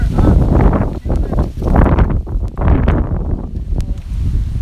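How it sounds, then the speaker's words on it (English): Gusting wind buffets an outdoor microphone with loud, rumbling surges that rise and fall several times, ragged and close, easing slightly toward the end. "I think I hit the sweet spot here for a wind gust because once it gets to me, it kind of dies down."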